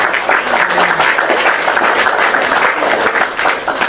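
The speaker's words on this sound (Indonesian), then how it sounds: "Tepuk tangan," An audience applauding at a religious gathering, loud sustained clapping from a crowd close by, steady for the whole stretch.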